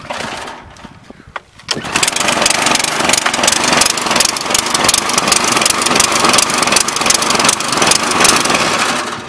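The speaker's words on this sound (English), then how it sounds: "Let's still see if this thing cranks over." A small engine that had just been dropped to the ground cranks and catches after a quiet opening second or two, then runs loud and steady with an even, buzzing drone to the end.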